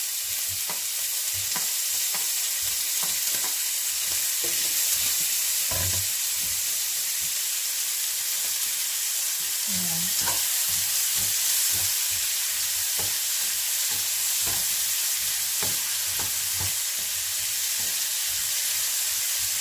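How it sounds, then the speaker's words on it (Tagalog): Tomatoes are sautéed in a pan for ginisang pechay with oyster sauce and sizzle continuously with a steady frying hiss, broken by occasional stirring scrapes and clinks close by. "Ilalagay ko muna yung kamatis."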